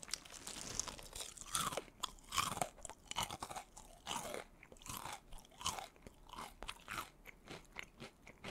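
Loud, close crunching of crispy BHC fried chicken being chewed, with repeated crackly bites and chews and no talking.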